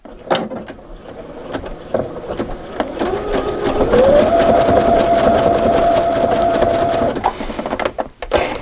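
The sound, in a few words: sewing machine zigzag stitching across fabric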